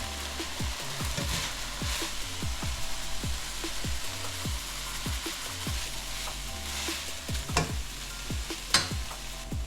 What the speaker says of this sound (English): by the steam and by the sound that this ground beef is almost ready to go